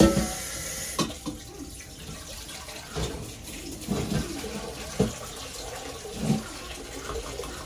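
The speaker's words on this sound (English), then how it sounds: "I'm putting the water." Water pours from a tap and splashes nearby, a steady rushing stream with a few knocks and clatters.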